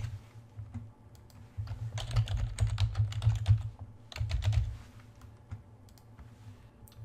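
Fingers type a username and password on a computer keyboard in two quick bursts of close, crisp key clicks separated by a short pause, then go quiet.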